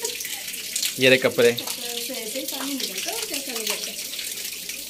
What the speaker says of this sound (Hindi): अब कैसा पानी निकल रहा है,